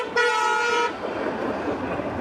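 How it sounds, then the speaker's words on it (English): A car horn toots once, loud and steady for under a second, during a street protest in Long Beach. Busy traffic noise rumbles on underneath and continues after the horn stops. "when you're at a protest, people honking, that's a good thing"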